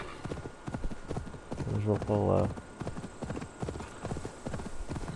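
Horse hooves clip-clop in Assassin's Creed Valhalla as a rider travels toward London, a steady rhythmic trot running under continuous talk from a man.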